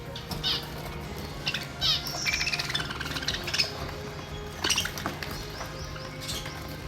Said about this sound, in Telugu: చూసిరు గదుల్లో ఇట్లా పిచ్చుకలను పెంచుకుంటున్నాడు